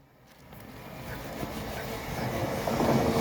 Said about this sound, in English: We actually have an Evro actually passing through platform 4.